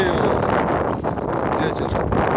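Strong wind roars steadily across a mountain summit, a loud, continuous buffeting rush against the microphone with no breaks.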